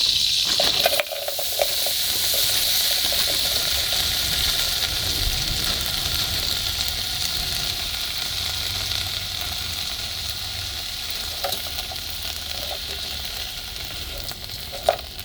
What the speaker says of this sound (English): so I can saute my pre-cut up veggies